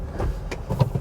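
A 2015 Honda Amaze running on CNG gives a smooth, low engine hum from inside the cabin, steady and moderately quiet, with a few soft bumps and no talking.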